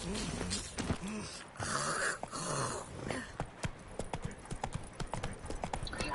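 Horse hooves clip-clop at a steady walking pace in The Witcher 3 video game, close and clear, with other game sounds and a voice speaking in the background.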